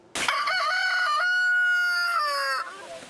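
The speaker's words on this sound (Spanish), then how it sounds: "una inusual audiencia contra Maurice, un gallo que canta demasiado temprano y a sus vecinos no les agrada" A rooster crows once, loud and close, in a long, bright, harmonic call lasting a few seconds before cutting off, with no other sound around it.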